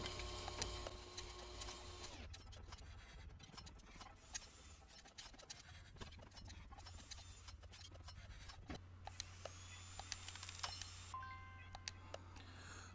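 A brake lathe in Car Mechanic Simulator 2021 machines brake discs with a steady low mechanical hum under whirring tones and scattered clicks and beeps, faint and continuous.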